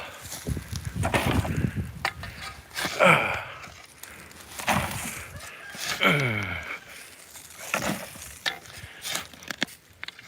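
Chickens cluck and murmur close by in short bursts on a fruit tree farm, with scraping and digging sounds in between as they tear up a planting hole.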